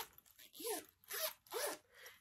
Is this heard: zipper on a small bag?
yes